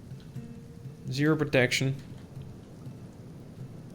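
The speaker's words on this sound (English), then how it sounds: "We're also standing in acid rain, which does not help anybody at all." Acid rain in the video game Kenshi, a steady rain hiss with low thunder-like rumble running throughout while someone speaks briefly over it.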